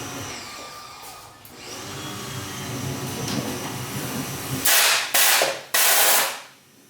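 A nitrous solenoid on an LS3-swapped Miata sprays through a loose rubber hose: a low steady hum, then three loud, sharp hissing bursts close by, the last one fading out.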